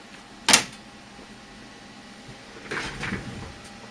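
A computer case door on a mid-tower PC, recently fixed in place with screws and hot glue, shuts with one sharp knock, followed a couple of seconds later by softer rattling handling noises, fairly close with no talk.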